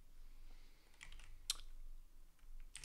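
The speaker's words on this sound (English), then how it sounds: "we're gonna go ahead and type in" Quiet, close typing on a computer keyboard, a handful of scattered key clicks and short bursts with pauses between them, no talking.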